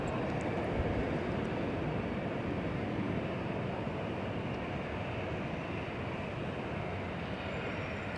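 Passenger jet from Paris touching down at Los Angeles International Airport, a steady broadband engine and air roar held at even loudness throughout, heard from a distance with no voices.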